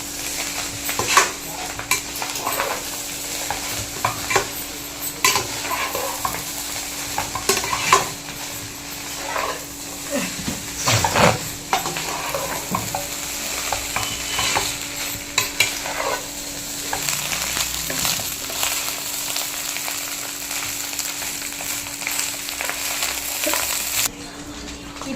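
Egg rice being stirred and mixed in a hot pan makes a sustained sizzle with repeated spatula scrapes and clinks against the metal, continuing steadily for about twenty-five seconds.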